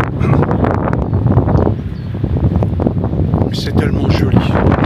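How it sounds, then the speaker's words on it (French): Strong wind buffets the microphone in loud, roaring gusts that continue throughout, with a voice partly audible underneath, on a road trip in Corsica. "il y a énormément de vent. Je ne sais pas si vous l'entendez."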